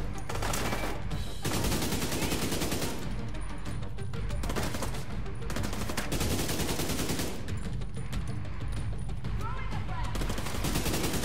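Dense, loud gunfire in the video game The Division 2 rattles almost without pause in rapid automatic bursts and overlapping shots, with people talking over it.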